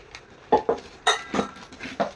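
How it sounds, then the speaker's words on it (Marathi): Butterfly stainless steel pressure cooker, five to five-and-a-half litres, and its lid handled close up: several sharp metallic clinks and knocks in quick irregular succession, alone without talk. "हे घेतलं आज कुकर स्टेनलेस स्टीलचा कुकर आहे बटरफ्लाय कंपनीचा"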